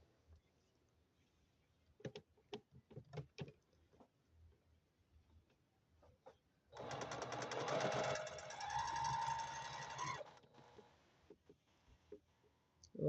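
A sewing machine stitches quilt pieces cut from heavy jean cotton, running in one steady, close whirring burst of a few seconds. Quiet clicks and handling noises come before it.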